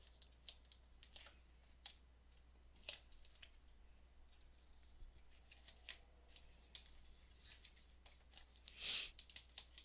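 Scissors trimming a file folder pocket: a run of small, faint crisp snips and paper rustles close by in a quiet room, ending in a sharper, louder cut.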